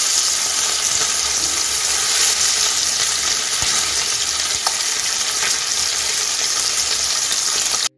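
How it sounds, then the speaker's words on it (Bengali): Fish pieces fry in hot oil and are turned over, a loud continuous sizzle and crackle with occasional faint clinks from the utensil, no voices. "মাছ আমার এক পাশ ভাজা হয়ে গেছে। এখন আমি উল্টে দিচ্ছি মাছগুলো"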